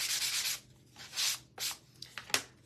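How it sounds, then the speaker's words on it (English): Short, light rasping strokes of sandpaper rubbing snowman decor, a few brushy passes with brief pauses between them. "just gonna take my sandpaper and lightly"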